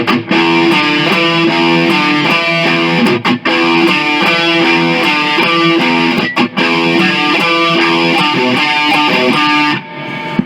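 Chunky, heavily distorted electric guitar riff from the verse of a song, played loud and steady with palm-muted low-string chugs and short rhythmic breaks.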